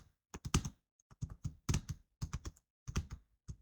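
Typing on a computer keyboard, close clicking keystrokes in quick clustered bursts separated by short pauses, with no voice.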